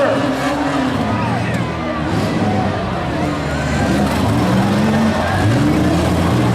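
Compact pure stock cars at a county fair demolition derby rev and roar together in a dense, loud engine wash, with an announcer talking over the noise.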